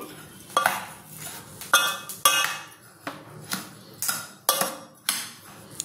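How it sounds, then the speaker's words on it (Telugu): A utensil stirs a bowl of wheat flour and sugar for sweet dosa batter, making about ten sharp, evenly spaced clinks and scrapes against the bowl, close and clear. "ఇదంతా ముందుగా ఈ చక్కెర, ఈ పిండి కలిసేలా కలుపుకోవాలి"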